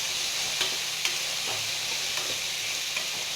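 Masala sundal with onion, tomato and salt sizzling in a pan, with a steady frying hiss broken by occasional sharp clicks of a spoon stirring and scraping, close and continuous, with no talk.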